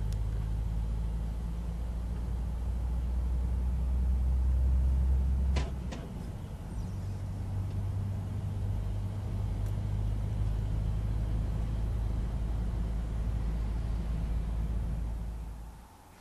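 A truck loaded with about 18 tons accelerates through its gears, a loud, steady low engine rumble that drops briefly at a gear change and then pulls on continuously.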